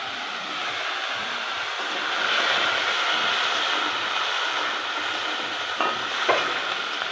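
Potatoes sizzle and fry steadily in a hot pan for a vegetarian aloo paneer dish, a dense broadband hiss holding throughout with a slight swell midway and a couple of faint clinks near the end.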